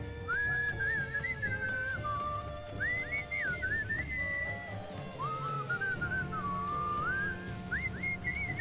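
A character whistles a lilting, repeating melody in the video game Sam & Max Beyond Space & Time, several bright phrases separated by short gaps over quiet background music.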